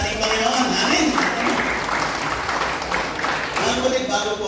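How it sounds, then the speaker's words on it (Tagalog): Sustained clapping from a church congregation, dense and even, with a voice speaking over the applause. "Isa pang malakas na palakpak sa ating Panginoon."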